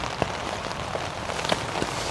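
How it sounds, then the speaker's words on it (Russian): Steady rain drumming on a tent during a prolonged downpour, a dense continuous patter with a few louder individual drops, close and alone. "Оказалось просто затяжной дождь."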